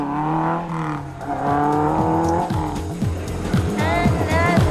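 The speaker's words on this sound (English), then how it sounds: "He applies a liberal quantity of handbrake." An Opel Manta 400 rally car at the 2002 Rally of the Lakes makes a handbrake turn, its engine revving and dropping in quick repeated bursts with tyres squealing, close and loud.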